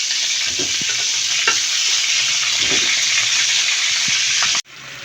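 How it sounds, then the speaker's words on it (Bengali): Eggs frying in a pan for egg korma, a loud, steady sizzle with occasional stirring scrapes, close up, ending abruptly near the end. "এই তো ডিম রান্না করবো, ডিমের কুরমা"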